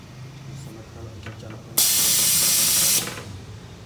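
A pneumatic lifting high-speed dispersing mixer with a loose adjustment screw lets out a sudden loud, steady hiss of escaping air for just over a second, then cuts off abruptly after faint background sounds.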